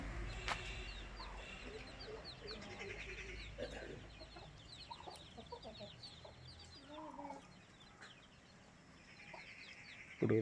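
Chickens on a Kerala farm keep up scattered clucks and short calls, quiet and a little distant, with a rooster-type call among them and low background noise.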